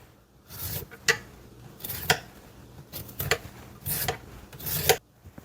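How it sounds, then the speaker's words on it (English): Sweet potatoes being peeled by hand in a kitchen, producing soft, close scraping strokes in a loose rhythm of about five quiet rasps over a few seconds, with no talk. "Wash, brush, and peel the sweet potatoes."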